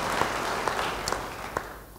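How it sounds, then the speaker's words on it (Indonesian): Applause from a church audience, a steady wash of clapping with a few sharper claps standing out, moderately distant and sustained throughout. "Beri tepuk tangan bagi dia."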